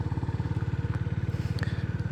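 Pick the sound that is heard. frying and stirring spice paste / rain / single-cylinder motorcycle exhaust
single-cylinder motorcycle exhaust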